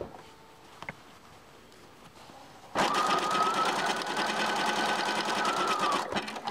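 A sewing machine zigzag stitches elastic onto infant leggings, starting after a quiet pause and running as a loud, steady rapid whirr for several seconds before slowing at the end.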